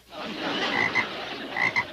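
Frogs croak in a short burst of rough, rasping calls. Several croaks repeat close together at moderate loudness with no voices over them.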